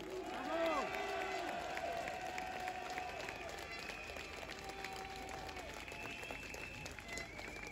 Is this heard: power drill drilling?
no